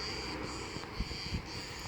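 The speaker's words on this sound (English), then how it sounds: "Cicadas," Cicadas on Rhodes island near Pefkos in August keep up a continuous high buzzing drone, faint and steady, over a low rumble of wind or traffic.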